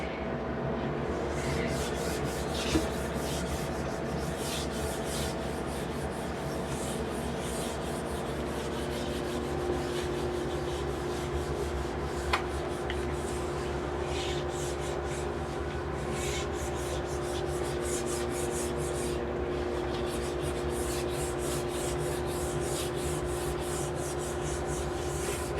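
Something being rubbed across a board to wipe it clean, a continuous soft scraping and rubbing texture that stays steady and close throughout, with no talk over it.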